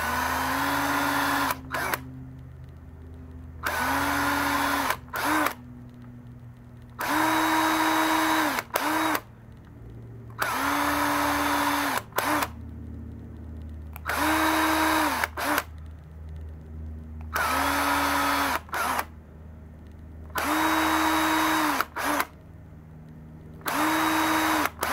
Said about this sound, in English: Put this into the drill.